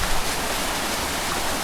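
A small waterfall spilling from a river at a spring-fed bathing spot, a steady broadband rush of water that stays close and even throughout with no voices.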